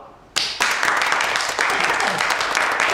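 A small group claps together in a newly set-up environmental court office, the applause starting abruptly and continuing steadily and fairly loud for several seconds.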